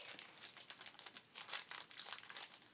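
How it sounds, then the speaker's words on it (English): Plastic packaging holding small plastic joint pins crinkles and crackles nearby in a busy, irregular run of sharp rustles, with no speech. "Sorry for the crinkling."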